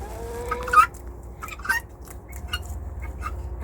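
Guinea fowl call out among chickens on a farm after a snowstorm, giving a couple of short, bright, raspy cries at a moderate distance over a steady low background rumble.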